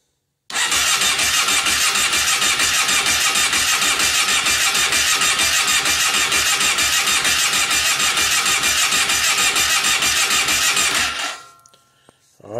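A Kawasaki Brute Force 750 ATV with a freshly cleaned carburetor cranks, catches and runs, a loud, steady mid-pitched engine drone held close for about eleven seconds before cutting off abruptly.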